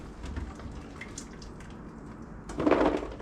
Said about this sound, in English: Put them in there, let them drain.